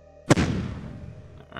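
A single sharp artillery blast in the Shadow Empire strategy game, a loud boom with a rumbling decay, then a faint second pop near the end.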